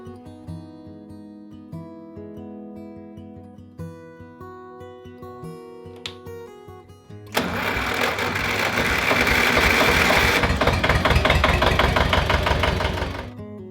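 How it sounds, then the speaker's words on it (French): An old tractor engine cranks and catches about halfway through, then runs loud and steady with a rough mechanical clatter, following a quieter stretch of tonal background music. "une légère pression sur le démarreur et hop, il fonctionne"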